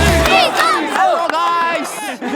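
A football crowd in a packed stadium in Kashmir, India, roars and chants loudly and continuously, voices rising and falling in sustained, aggressive bursts with no pause.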